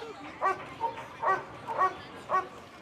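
A police dog barks in a series of four or five sharp, evenly spaced yips and barks at moderate distance, with no talking over them.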